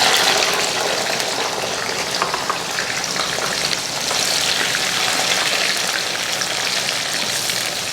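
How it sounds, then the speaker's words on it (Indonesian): Green tomatoes sauté in a hot pan, giving a steady, close, dense sizzle that holds evenly throughout with no voices over it. "Kita tumis dulu tomat hijau."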